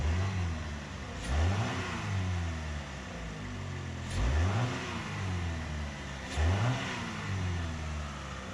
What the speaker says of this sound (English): Just rev it up a couple times, make sure everything's good, get it high in the RPM.